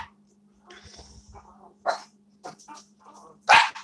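Indoor dog giving soft whines and whimpering breaths followed by a couple of short sharp barks, close and fairly loud over a steady low electrical hum, no talking.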